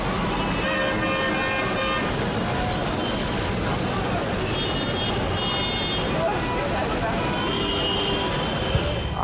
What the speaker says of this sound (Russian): Клаксон на машине работает. Все время бип-бип, бип-бип, бип-бип